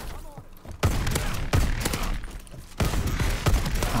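Bursts of automatic gunfire from a multiplayer Infected match in Call of Duty Advanced Warfare, loud close shots in three clusters with short gaps between them.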